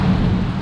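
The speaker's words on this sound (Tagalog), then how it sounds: "Sobrang lalakas ng mga kulog niya" Deep, sustained rumble of thunder in a heavy rainstorm on a country road, loud and broad with steady rain hiss over it, no talking.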